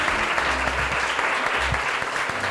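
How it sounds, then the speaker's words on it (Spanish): A crowd at a game jam event applauds loudly and continuously, a dense close wash of clapping with a few voices faintly mixed in underneath. "Bueno, un aplauso, loco, la verdad."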